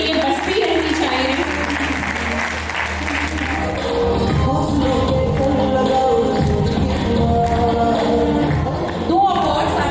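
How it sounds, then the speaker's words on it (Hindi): Audience applause at an awards night for best debut achievers, clapping mixed with music and crowd noise, steady and loud throughout with some voices underneath. "A big round of applause for three of us Best Debut Achievers."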